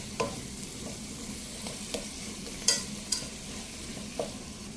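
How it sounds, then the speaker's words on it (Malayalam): Chicken masala sautéing with chopped coriander leaves in a pan, a soft steady sizzle broken by several sharp spoon scrapes and stirs, close and fairly quiet. "നന്നായിട്ട് വഴറ്റി കൊടുക്കുക."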